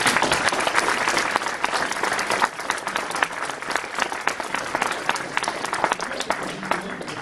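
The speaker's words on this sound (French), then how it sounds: "je vous demande de maintenant tous les applaudir" An audience applauds a lecturer at a conference on Napoleon, sustained dense clapping from a sizeable room with sharp individual claps standing out near the microphone, steady and loud throughout.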